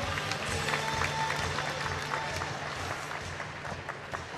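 Crowd applause for the fighters at a cage-fighting event, sustained clapping and cheering from the arena audience filling the whole stretch at moderate level.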